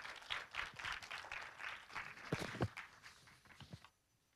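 Audience applause fills the room at the 8th Korea Online Journalism Awards ceremony as a presenter is welcomed, a dense, steady clapping for about four seconds that then stops abruptly.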